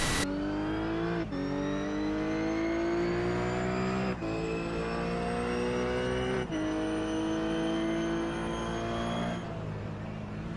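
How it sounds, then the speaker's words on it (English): A GTC race car laps Spa-Francorchamps, its engine screaming loud and close as it climbs through the gears, with sharp drops at each of several upshifts and no voices. "So Jonathan, take us through a lap in this GTC car, because it's incredibly tough in this car."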